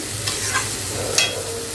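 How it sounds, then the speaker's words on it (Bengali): Meat being stir-fried in a pan, a loud continuous sizzle with a couple of brief stirring scrapes, close up and without speech. "মাংসটাকে কষিয়ে নিচ্ছি"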